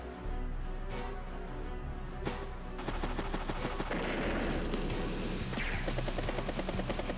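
Machine gun fire on a tank in Advance Wars: Days of Ruin, a steady, dense rattle of rapid shots over a constant mechanical drone, growing louder and busier partway through and continuing to the end.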